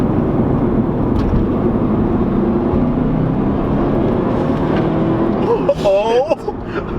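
A tuned 2013 Subaru STI pulls hard in third gear, its engine drone rising loud and steady from inside the car before easing off near the end.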